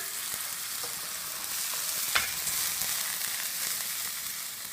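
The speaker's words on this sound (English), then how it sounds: "This is the tarka. Is the sizzle and giving it a kick." Steady frying sizzle of a tarka, spices hitting hot oil for moong dal, a continuous crackling hiss with a brief sharper burst partway through, no voices.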